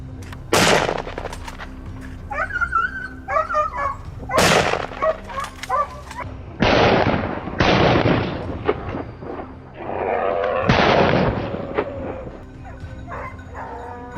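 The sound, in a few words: gunfire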